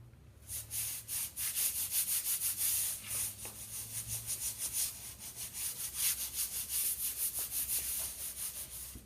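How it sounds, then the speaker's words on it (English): Wood veneer is pressed and rubbed down into Old Brown Glue on a wooden column, giving a steady run of close, soft scraping strokes in a regular rhythm with no voices. "so I'll just put the veneer down in the glue"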